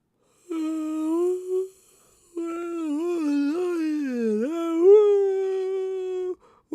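A person imitates a wolf howl during a live-streamed howl rehearsal: a short rising call, then a long wavering howl that dips and climbs, loud and close with no other sound.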